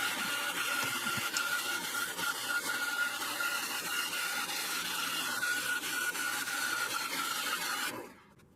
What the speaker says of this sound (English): I then use the belt sander and electric sander to clean up imperfections and bevel the edges